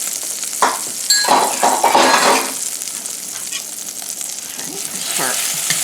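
Two eggs sizzle and crackle in a hot pan while being stirred, with scraping and occasional light clinks of utensil on metal, loud and close, strongest early then settling into a steady fry.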